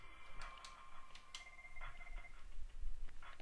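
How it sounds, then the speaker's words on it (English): An IP Communicator softphone ringing on a call, with quiet repeated electronic ring tones over faint background noise and scattered clicks. "We can see my IP communicator is ringing."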